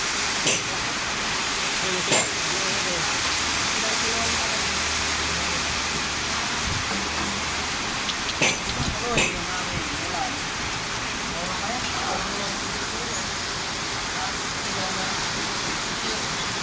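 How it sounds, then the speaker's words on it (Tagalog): Steady rain falls over a mechanic's outdoor work area, a continuous broadband hiss lasting throughout with a few sharp knocks and clanks from work carrying on, and faint voices beneath. "Ito yung ulan"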